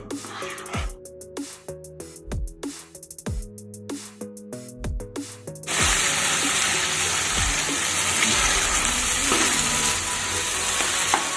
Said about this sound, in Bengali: কাজু বাদাম বাটাটা দিয়েও কিন্তু দু তিন মিনিট মতো কষিয়ে নিলাম